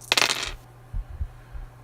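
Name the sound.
dice rolling on a table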